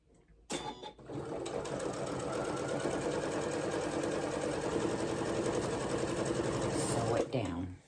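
A sewing machine stitches down a star potholder, starting after a brief pause and running in one steady, fast mechanical whir for about six seconds before stopping, fairly quiet and close.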